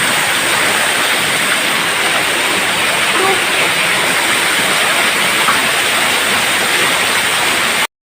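A waterfall at a scenic spot with bright blue water roars as a constant broadband rush, loud and close, holding steady before cutting off abruptly at the end.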